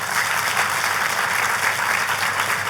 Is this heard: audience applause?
yes